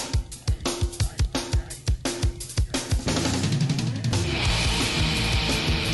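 Drums from a 1993 thrash metal recording: a tight, punchy run of evenly spaced hits that gives way to a dense, loud full-band wall of sound, with no talking.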